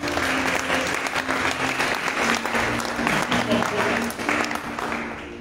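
A church congregation bursts into sustained applause at an Easter service, a dense, steady clapping from many hands filling the room, with voices faintly mixed in beneath it.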